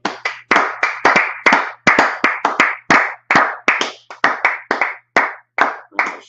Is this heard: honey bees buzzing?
no